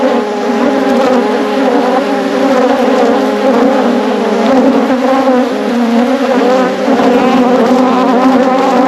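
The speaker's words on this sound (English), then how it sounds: "As you can see, bees do not like me today." Honey bees swarm close around an open hive during a beekeeping inspection, their dense, loud buzzing continuous and steady throughout, with no talk.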